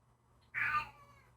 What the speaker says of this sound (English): You can probably hear my cat meowing in the background there.